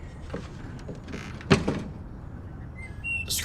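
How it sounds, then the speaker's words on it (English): A screen door swinging open as an audio drama sound effect, a single sharp clack followed by a brief creaking swing, close and moderately loud over a faint background hiss. "The screen door swings open"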